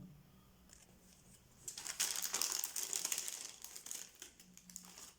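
Sheets of silver paper decorated with heart peel-off stickers are handled close by, making soft crinkling and rustling that swells in the middle and then fades, with no talk.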